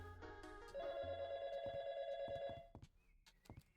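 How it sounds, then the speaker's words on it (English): A telephone rings in the video game YIIK, a steady electronic trill held for about two seconds over a low background tone, then fading into quieter scattered sounds. "The phone is ringing."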